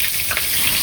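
Leafy greens (shak) frying in a pan in a village kitchen, a steady close sizzle that holds evenly for under a second with no voices.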